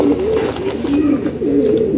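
High flyer and low flyer crossbred pigeons coo close by in soft, repeated rolling calls, steady over a faint background.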